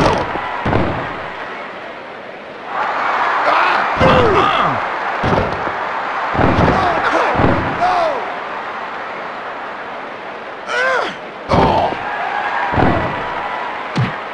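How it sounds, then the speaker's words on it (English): A wrestler is body-slammed onto the ring mat in a WWF Attitude-era match between Steve Blackman and D'Lo Brown, giving repeated heavy booming slams and thuds amid a roaring arena crowd and commentator voices. "The lethal weapon slammed onto the mat"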